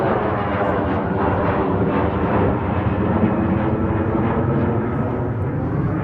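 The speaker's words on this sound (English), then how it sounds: "Hang on, plane." An airplane passes overhead above a market garden, a broad continuous roar that holds steady and fairly loud throughout with no talking.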